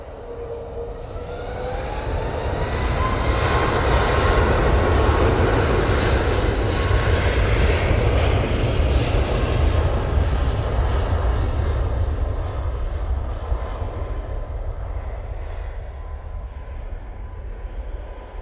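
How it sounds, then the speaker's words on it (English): A British Airways Airbus A319 taxis past the control tower at Manchester Airport, its engine roar swelling to a steady, loud drone with a falling whine, then easing slightly as it moves along. "319 British Airways on taxi, just passing the tower now"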